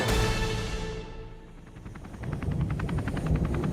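A helicopter flies overhead with a steady rotor whir and a rising, rhythmic blade chop that grows louder in the second half, with no talking.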